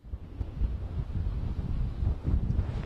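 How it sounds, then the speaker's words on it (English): Strong gusting wind during a snowstorm on Long Island, roaring and buffeting the microphone in a continuous low rumble with no talking. "It's really windy."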